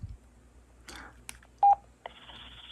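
Digital handheld radio, a DP738UV-type unit, keying up and transmitting a short electronic tone burst amid faint clicks, followed by a steady hissing data-like tone near the end; no speech.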